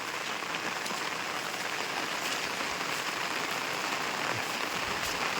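Steady rain falls without letup in a rural Konkan farming area in November, a dense, even hiss of drops pattering on surfaces, close and continuous throughout.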